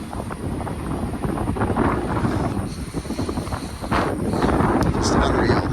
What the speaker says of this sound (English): Sorry about the wind noise, but I can't do anything about that.